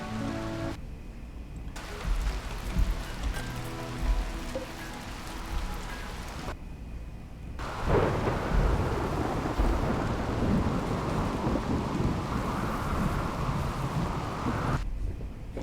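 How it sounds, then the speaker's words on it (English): Rain and thunder in the video game Rimworld: a steady wash of rainfall with low rolling thunder swelling in the middle, broken by brief silent gaps. "it's still raining"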